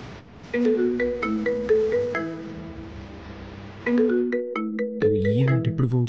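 A phone ringtone for an incoming call plays as a bright, repeating electronic melody of tonal notes, steady and fairly loud, with a brief pause before the tune starts again.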